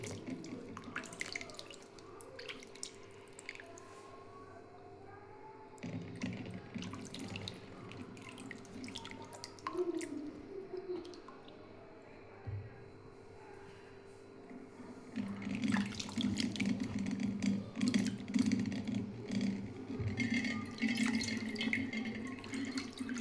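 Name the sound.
washing raw mangoes in water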